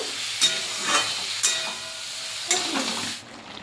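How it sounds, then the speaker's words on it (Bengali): Boiled broccoli lightly fried with salt in a pan: a close, steady sizzle with a few sharp stirring scrapes, quieting toward the end. "এটা বেশি ভাজবো না হালকা করে ভেজে নেব"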